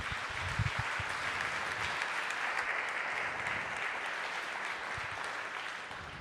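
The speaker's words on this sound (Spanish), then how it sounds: "Puedes dar un aplauso al Señor." A church congregation claps together in a continuous, even round of applause, a dense, steady patter that holds at the same level throughout.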